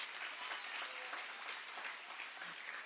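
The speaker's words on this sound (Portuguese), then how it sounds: "Aplaude ao Senhor, vai. Aplaude." Church congregation applauding the Lord, a faint, even wash of clapping that stays steady throughout.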